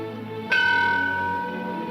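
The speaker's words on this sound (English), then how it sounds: "Sound the bell once." A single ship's bell struck once, ringing out loud and close with a bright metallic strike that leaves a long, slowly fading tone.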